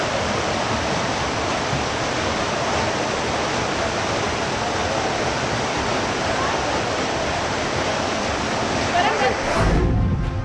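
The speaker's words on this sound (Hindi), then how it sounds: "पानी का बहाव जैसे ही और थोड़ा तेज हुआ, वैगन-आर भी पानी में तैरने लगी।" Floodwater from heavy monsoon rains rushes through a street with a Wagon-R car in the current, a loud, continuous roaring wash that holds steady throughout.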